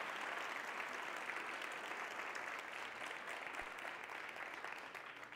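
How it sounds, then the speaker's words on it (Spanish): A church congregation gives a long, dense round of applause, a steady wash of many hands clapping at a faint, even level that tapers slightly at the end. "Dale un fuerte aplauso a la palabra."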